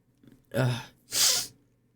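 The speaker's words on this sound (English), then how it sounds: "I sneezed so much that I started sweating" Two forceful sneezes follow a quiet pause, a first voiced burst then a sharper, hissy one, close and loud.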